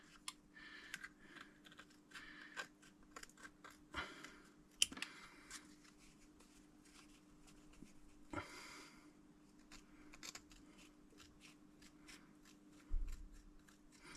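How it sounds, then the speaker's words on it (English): Quiet, close snipping of scissors, soft repeated cuts with small rustles and clicks in a hushed room. "And the scissors I'm using here"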